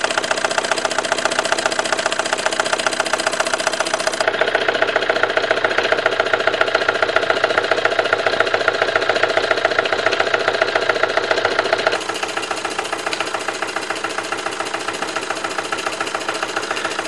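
A Bing toy steam engine with a small slide valve runs on live steam, giving a steady, close, rapid mechanical chuffing and clatter that holds constant throughout, with a brief shift in tone partway through and no talking.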